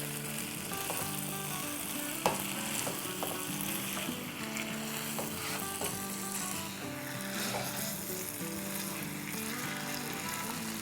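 Chicken coated in spices sizzles in a pot for kabsa while a spoon stirs it, giving a steady dense frying hiss with occasional clicks and scrapes at a moderate level, no talk.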